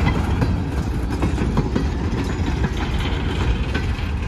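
Freight train rolling past near Lake Avenue in Blasdell, New York, running from Hamburg toward Buffalo's Seneca Yard, with a steady, continuous rumble and wheel clatter throughout.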